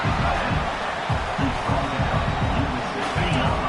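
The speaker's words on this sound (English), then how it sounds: "And here comes the noise. This crowd is trying to inspire this defense to make a big red zone stop." Roaring stadium crowd noise fills a College Football 26 video game during a red zone defensive stand, a dense continuous swell of cheering with thumping low beats, loud and sustained, with commentary talk over it.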